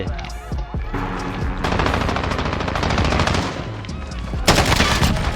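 Rapid automatic fire from a CR-56 AMAX assault rifle in a Call of Duty Modern Warfare multiplayer match, sustained bursts cracking loud and close with a sharper flurry near the end.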